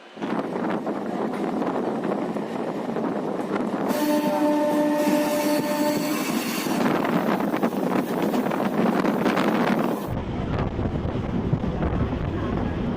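A local train rumbles along with a continuous roaring wind-like noise and a sustained tonal whine in the middle, then shifts to a lower steady rumble while entering Digha station.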